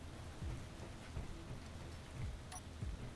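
Steady rain falling in the Space Engineers video game, a continuous loud hiss of drops with low rumbling swells underneath.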